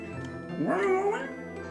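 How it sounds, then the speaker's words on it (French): A pet cat lets out a single drawn-out meow indoors, rising then falling, clear and close over a steady low room hum. "Mon chat qui me regarde là. Qu'est-ce que tu veux"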